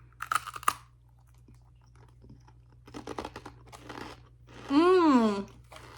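Crunchy bites and chewing on a Japanese snack bought at Five Below, close up in short bursts, followed by a brief voiced hum of approval.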